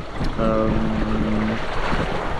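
Steady wind rushes across a sailboat moving well at sea at four to five knots, a loud continuous roar with water noise under it and a brief tonal hum partway through.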